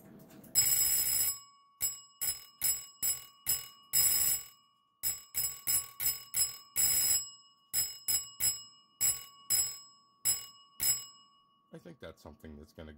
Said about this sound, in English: I'd get an old doorbell that was used in the 70s and see how that sounds